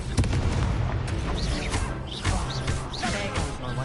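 Confringo blasting spell in Hogwarts Legacy on PS5: a string of booming blasts and bursts repeat over about four seconds amid busy game effects, loud and close throughout.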